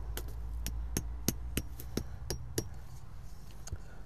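About a dozen sharp metallic hammer blows strike stakes at an uneven pace, close and crisp against a quiet outdoor background.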